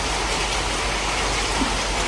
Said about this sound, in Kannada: ಮಳೆಗಿಂತಲೂ ಜಾಸ್ತಿ ಗಾಳಿ ನೋಡಿ